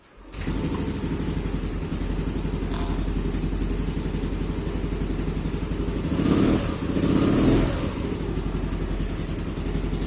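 An old motorcycle, left unused for a long time, idles steadily right after starting, a close, constant putter with a couple of brief throttle revs swelling partway through.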